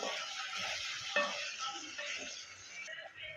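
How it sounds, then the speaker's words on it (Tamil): Small shallots, three chillies and curry leaves sautéing in a pan for sambar, giving a soft, steady sizzle with a few light stirring clinks, fairly quiet and close. "இப்போ நான் சின்ன வெங்காயம் எடுத்து வச்சுருக்கேன் அதையும் சேர்த்துக்கலாம் அது கூட மூணு மிளகா கொஞ்சம் கருவேப்பிலை இப்போ இதை நம்ம வதக்கி வச்சுக்கலாம்"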